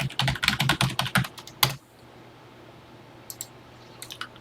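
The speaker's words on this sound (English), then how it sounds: "so let's get busy typing" Keys clatter on a Texas Instruments TI-99/4A home computer keyboard in a quick run of about a dozen close, firm presses. Near-silence follows, with a few faint later taps.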